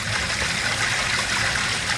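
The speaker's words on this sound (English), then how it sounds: "Nice thing about this too is you can see what's coming out of the drain." Water drains out of a pipe at a laundromat, a steady close splashing trickle and gurgle running continuously without pause.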